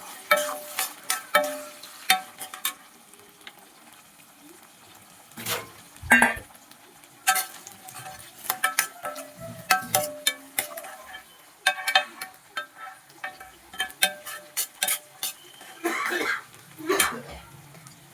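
Onion, carrot and other chopped vegetables stirred and fried in a pan for upma, close intermittent scraping and clinking strokes over a light sizzle, with a cough and a few quiet sounds between strokes.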